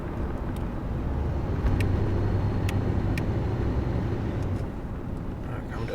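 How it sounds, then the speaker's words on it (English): A 1983 Oldsmobile Regency 98 Brougham driving on a cold 30-degree day, its steady engine and road rumble rising and easing as the transmission shifts, heard from inside the cabin with a voice talking over it. "the car upshifts and downshifts just fine"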